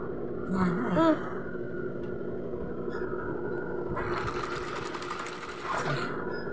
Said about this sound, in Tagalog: Tapos tatahiin natin yan.